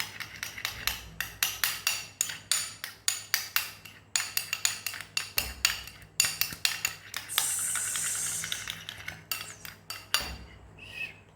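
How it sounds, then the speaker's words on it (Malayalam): A spoon stirs a glycerin face-cream mixture in a bowl, producing rapid, rhythmic metallic clinks and scrapes, close and steady, with a brief smoother scraping stretch before the tapping resumes. "ഇത് നന്നായിട്ട് തന്നെ നല്ല രീതിയിൽ തന്നെ ഒന്ന് മിക്സ് ചെയ്തെടുക്കാം കേട്ടോ"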